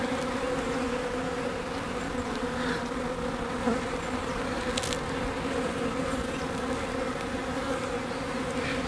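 Honeybees buzzing around hive frames showing early wax moth damage, a dense continuous hum close by with no talk over it.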